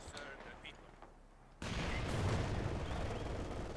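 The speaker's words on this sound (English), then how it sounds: "I'm going to launch a mortar strike on them to try and dissuade them" Mortar strike explosions in Company of Heroes 2 hit suddenly after a quieter stretch, a loud sustained rumble of blasts and booms that carries on while a voice talks faintly beneath.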